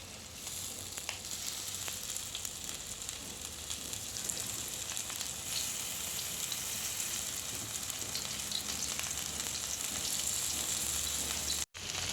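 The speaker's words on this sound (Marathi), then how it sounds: "एका तव्यात दोन चमचे तेल घेऊन ते गरम झाल्यावर त्यात कढीपत्ता टाकून घ्यावा व एक एक करून कोळंबी सोडून घ्यावी" Prawns frying with curry leaves in hot oil on a flat tawa pan give a fairly quiet, unbroken sizzling hiss with faint crackles throughout.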